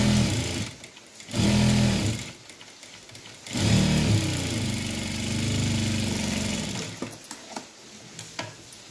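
Sewing machine stitching the folded quarter-inch hem of a blouse sleeve, a close whirring motor hum in several bursts of a second or two, the last one longer, with light handling clicks between runs.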